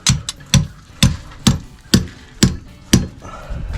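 Hot forged steel pieces for a fireplace tool set are hammered together, eight loud, evenly spaced ringing blows about half a second apart, close up with no talk.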